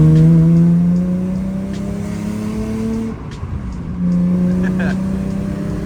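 A Nissan 350Z engine idles and revs close by, a strong droning hum that dips midway and then swells again, with speech heard over it.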